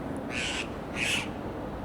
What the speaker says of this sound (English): there are these mountain birds coming down in the winter. You can hear them, the black ones. They're called Alpendole.